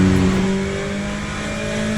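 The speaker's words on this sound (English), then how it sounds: "I'll just leave you with the sound of this Corvette engine until the end of the race" A Corvette race car engine in the sim racing game Le Mans Ultimate drones steadily at high revs for two seconds, loud and continuous with sustained tonal harmonics and no talk.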